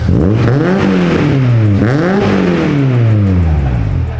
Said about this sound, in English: We'll have Ricky rev it up for you so you hear the new exhaust on it.